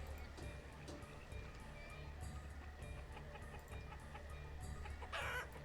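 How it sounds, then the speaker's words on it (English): Chickens in the medieval village-building video game Banished cluck steadily and busily, with a rooster crowing at the end, a dense, continuous farmyard chatter at low volume. "Oh, and these chickens are very loud."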